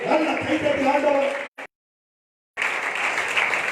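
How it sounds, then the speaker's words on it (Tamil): Congregation at a Sunday church service clapping together in a loud, dense burst of applause, breaking off abruptly and then resuming just as full after about a second of silence. "நல்ல கைத்தட்டி ஆண்டவர்."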